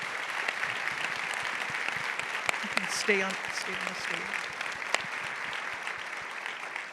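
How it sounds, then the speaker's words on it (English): An audience gives a women-in-leadership panel a sustained round of applause, steady and moderately distant, while a voice speaks briefly over the clapping. "I would like the audience to please give them a round of applause"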